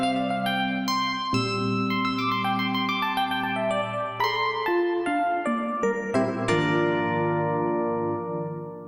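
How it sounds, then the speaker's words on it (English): Yamaha DX7 stock electric piano patch played through Lexicon 224 reverb, giving bright bell-like chords over sustained low notes with a shimmering, long-decaying ambience, played solo with no talking. "This DX7 patch, when combined with the Lexicon 224 reverb, sounds like this."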